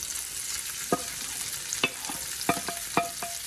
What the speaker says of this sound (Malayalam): ഞാൻ ഇതെല്ലാം കൂടെ ഈ പാനിലേക്ക് ഇട്ട് കൊടുക്കുകയാണ്.